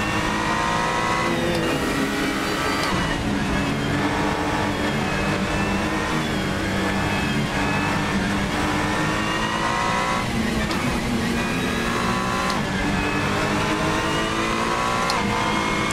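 A Ferrari 499P hypercar in Assetto Corsa lapping Suzuka, its engine droning loud and close throughout, with the pitch rising and falling through gear changes and no talking.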